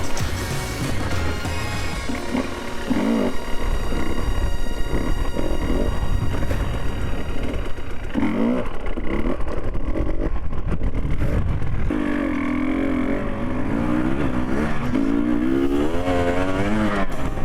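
An enduro motorcycle rides the Kalvarija enduro track, its engine revving up and down repeatedly, close and loud, with rising and falling pitch sweeps as the rider works the throttle.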